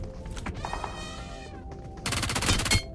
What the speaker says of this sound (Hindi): लेकिन पीछे से फायरिंग आती है।